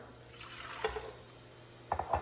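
Hot water trickles and drips into a KitchenAid stand mixer bowl for bread dough made from freshly ground wheat, a faint steady pour with a few louder splashes near the end.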